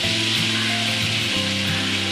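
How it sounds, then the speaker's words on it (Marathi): A torn bay leaf and spices sizzle in melted butter for a restaurant-style paneer butter masala, a loud dense close hiss over a low steady droning hum, with no voices. "थोडं वितळलं बटर की मग आपण फोडणी टाकायची याच्यामध्ये"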